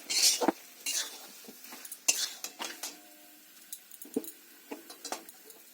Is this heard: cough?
no